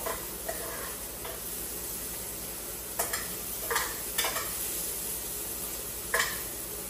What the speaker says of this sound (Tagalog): Stir natin for like 5 minutes until it makes it brown.